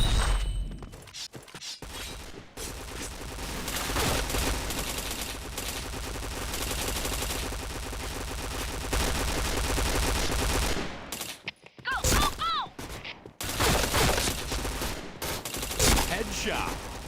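Video game gunfire, dense and continuous bursts of shots with crackling impacts stretching across most of the span, with a brief lull near the middle before the firing resumes.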